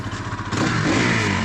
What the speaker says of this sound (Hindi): आपको मैं एक्सेलरेट करते हैं